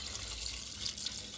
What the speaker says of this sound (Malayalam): ഇതിലേക്ക് നമുക്ക് തിളപ്പിച്ചാറിയ വെള്ളം ഒഴിക്കാം.